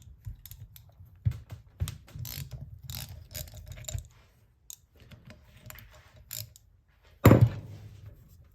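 A ratchet wrench works the oil pump bolts on an HZ One Tonner, giving rapid close clicking bursts for several seconds, then a pause and a sharp metallic clunk near the end, with no talking.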